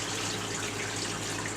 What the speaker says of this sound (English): So you want to dump out some of your brine so that you can lift your bucket